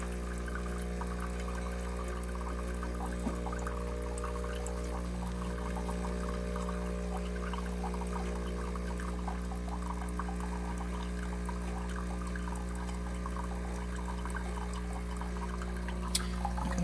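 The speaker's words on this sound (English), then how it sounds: "How much water pours in there?" Water streams steadily from a Breville Barista Touch espresso machine into a cup, a continuous pour over the machine's constant low hum, with no talk.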